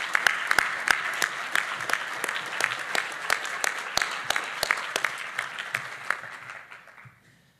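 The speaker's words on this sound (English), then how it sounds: "Let's give them a round of applause." A conference audience breaks into applause, many hands clapping together with a few sharp, distinct claps standing out near the front, holding steady and then fading away at the end.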